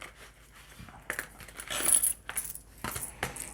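Euro coins from a household grocery budget envelope clink and rattle as they are handled in several small bursts, close and fairly quiet, with no talk.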